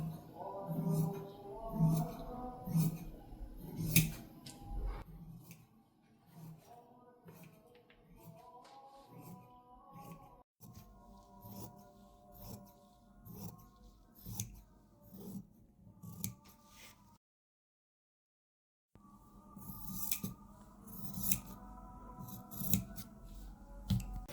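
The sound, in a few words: scissors cutting fabric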